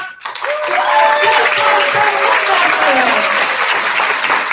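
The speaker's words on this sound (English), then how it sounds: "Let's give another round of applause to our" Sustained audience applause at an Atomy seminar, a dense, steady wash of clapping from a large crowd that holds at full strength throughout.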